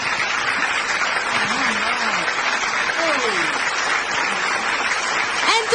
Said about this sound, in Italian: Facciamo un applauso per Anthony Luce.